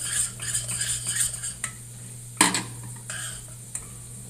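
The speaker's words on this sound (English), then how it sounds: "Stir my beans real quick." A spoon scrapes and clinks against a pot of beans during stirring, with light metallic taps in an irregular rhythm, one louder clank near the middle, close by and with no talking.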